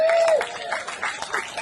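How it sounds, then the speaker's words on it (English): A brief burst of audience applause at an outdoor jazz festival award presentation, a crowd clapping steadily with a short whistle-like tone at the start. "give him a round of applause"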